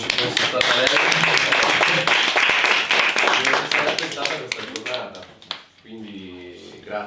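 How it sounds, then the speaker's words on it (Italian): Audience applause at a Talent Tour 2019 event in Foligno, a dense run of clapping filling the first five seconds before fading, with a voice speaking near the end. "Farei un applauso a Manuela"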